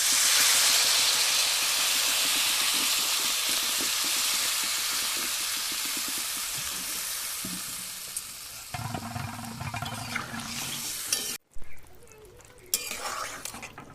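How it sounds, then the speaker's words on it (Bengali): Water poured into a hot pan of tilapia curry with taro, bursting into a loud, sustained hiss of steam that fades over several seconds into softer bubbling and a few scrapes, with a voice faintly present. "এবারে তরকারিতে জল দেব, এবারে পরিমাণ মতো জল দেব।"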